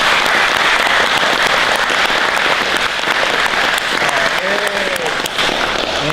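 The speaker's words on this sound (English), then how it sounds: "clap for your training partners" A jiu-jitsu class claps together for their training partners, a dense, steady wash of applause holding at full loudness throughout, with a few voices calling out faintly near the end.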